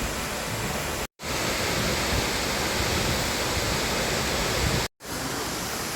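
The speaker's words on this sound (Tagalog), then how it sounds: "so dito na kami sa Santa Cruz Falls. Ayun siya, napakaganda. Sobrang taas." Santa Cruz Falls pours down from a great height with a steady, loud, broad roar of falling water, close and continuous, broken by two brief cuts to silence.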